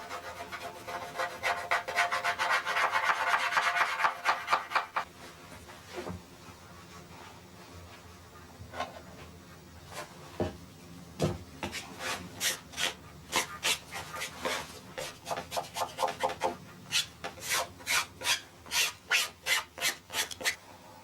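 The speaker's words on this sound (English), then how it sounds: "the kokuso-filled areas are ground flat with a stone" A wooden surface filled with kokuso lacquer putty, ground flat by hand with a stone in traditional Japanese shrine carpentry: close, gritty rubbing, first continuous, then broken into rhythmic back-and-forth strokes that quicken toward the end, with no talk.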